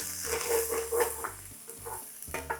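Green curry paste fries in hot oil for a Thai green chicken curry, sizzling softly while a utensil stirs and scrapes the pan in short, uneven strokes.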